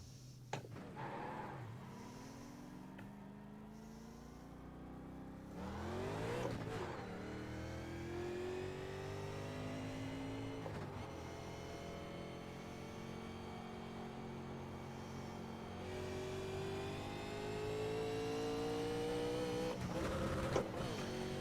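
A NASCAR Legends race car engine in the iRacing sim at Nashville Superspeedway drones steadily, its pitch climbing through repeated upshifts with brief drops between gears, loud and close throughout.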